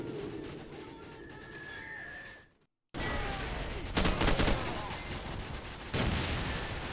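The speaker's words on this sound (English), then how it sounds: "What is shooting me?" Gunfire cracks and bursts in Call of Duty 4: Modern Warfare as the player is shot at, dense volleys under a continuous game din with a brief dropout midway.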